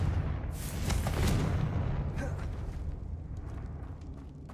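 Confringo blast spell in Hogwarts Legacy going off as a booming burst, a heavy explosive thump with a rumbling tail that slowly fades.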